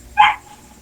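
A dog gives one short, sharp bark, loud and close, followed by quiet.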